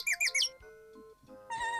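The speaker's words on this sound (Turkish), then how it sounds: "Anne kuş sana teşekkür ediyor Patrick." Bright bird chirps in quick bursts, a few short tweets, a pause with faint tones, then another trill of chirping.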